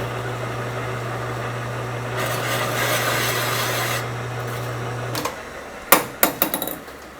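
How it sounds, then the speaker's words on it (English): A lathe fitted with a cutter hums steadily while cutting a bicycle frame chainstay, then stops, followed by several sharp metallic knocks and clatters. "So that just slides on. Okay, so start the lathe."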